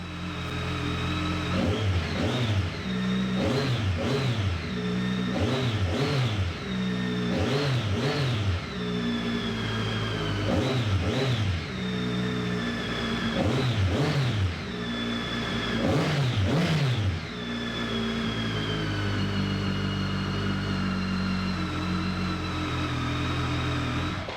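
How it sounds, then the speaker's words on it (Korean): A 2011 BMW K1300R motorcycle fitted with an Akrapovic tuning exhaust revs repeatedly, about ten sharp throttle blips rising and falling in a steady rhythm over a loud idle, close by with no talk. "아크라포빅 튜닝 머플러가 장착이 되어 있어서 배기 사운드가 굉장히 좋고요"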